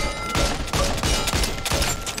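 Desert Eagle pistol shots fire in Back 4 Blood, about five heavy, punchy reports at a fairly quick, even pace, each close and loud with a short ringing tail.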